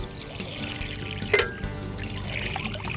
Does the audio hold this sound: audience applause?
no